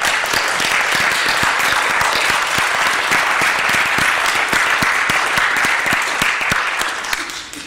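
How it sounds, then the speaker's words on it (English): Audience applause fills a church hall, a dense, steady clapping from a sizable crowd that holds loud throughout and tapers slightly near the end. "Can we give an applause for those?"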